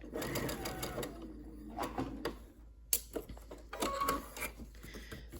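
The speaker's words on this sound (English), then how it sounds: "I'm going to sew my last few stitches, taking out my pin before I run over it" Sewing machine stitches a curved quilt-block seam in fabric, close-up bursts of rapid mechanical whirring separated by short pauses and a sharp click, under quiet room tone.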